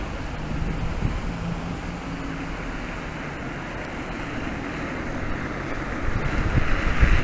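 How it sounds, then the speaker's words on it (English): Strong wind roars and buffets the microphone while riding a Super Soco TSX electric motorcycle around Lowestoft, a loud continuous rush that swells toward the end. "going into the wind now. You can probably hear it pretty bad going up here."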